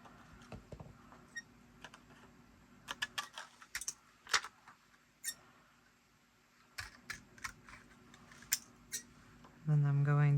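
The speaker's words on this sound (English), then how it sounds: "I'm going to trim this down to fit on the back of my frame." A clear plastic transparency sheet being trimmed with scissors for a craft frame, giving a scattering of small crisp snips and clicks at close range, quiet and irregular, with a louder buzzing noise at the very end.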